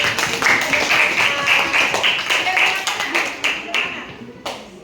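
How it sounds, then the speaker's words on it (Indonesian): Students in a junior high school classroom clapping for a presenting group, a few seconds of brisk, dense clapping close by that thins into a handful of separate claps at the end, with voices mixed in. "kita beri tepuk tangan untuk kelompok kinestetik"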